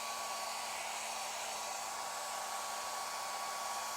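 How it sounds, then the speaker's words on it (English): A handheld hair dryer blows steadily and loudly for the whole stretch, a constant whooshing rush of air with a faint motor whine and no pauses. "So I'm going to use my hairdryer again like I did last time."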